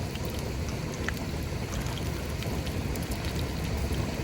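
Heavy rain drums steadily and densely on the roof of a van, a constant close wash of patter with scattered sharper drops and no speech.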